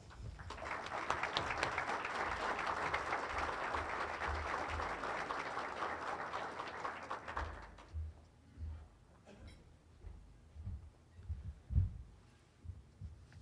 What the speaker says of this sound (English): I think we'll also applaud for your leadership and success